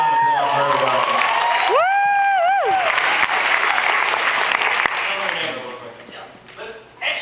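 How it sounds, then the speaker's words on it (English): Audience at a hitRECord movie event breaks into loud, sustained applause and cheering, with whoops and shouting voices rising over the clapping before it fades toward the end. "Let's hear a round of applause for everybody."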